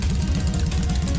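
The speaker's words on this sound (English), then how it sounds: "does it sound like it has an internal combustion engine?" A video-game engine runs with a steady, loud, pulsing low throb and a rhythmic knocking chug that holds without pause, and no one speaks.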